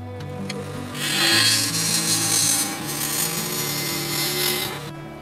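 A lathe gouge cuts into a spinning wooden bowl, producing a continuous loud scraping hiss over the hum of the lathe motor, close up and steady for several seconds with no talk.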